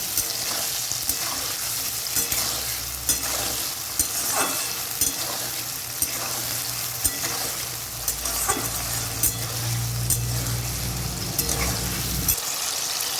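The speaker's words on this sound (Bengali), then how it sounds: "নুন দিয়ে দেব পরিমাণ মতো ভালো করে নেড়ে চেড়ে ভেজে নেব" Chana dal fritters and potatoes sizzling in hot oil as they are stirred and fried with salt for a Bengali potato curry, with steady frying hiss, scraping stirs at intervals and a louder bubbling stretch near the end.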